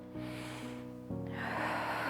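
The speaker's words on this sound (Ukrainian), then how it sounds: "Дихаємо трохи носом." Air drawn in through the nose during an exercise breathing drill. There are a couple of short, audible sniffing inhales over steady background tones, and the second is louder and longer.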